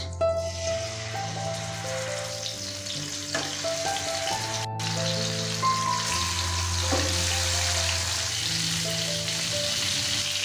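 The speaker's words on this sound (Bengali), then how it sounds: "এখানে আমাদের মাছের জন্য তেল গরম হয়ে গেছে, দিয়ে দেবো একে একে মাছ।" Bhola fish pieces fry in hot oil for a green chili curry, producing a constant loud sizzle with crackles, while a faint melodic tone runs underneath.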